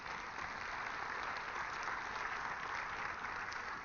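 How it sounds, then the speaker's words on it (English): Faint, even applause from an audience at a city government press event in Philadelphia washes through the whole stretch as a soft, continuous patter of many hands, heard from a distance without talk. "Please give Rich a big round of applause as well"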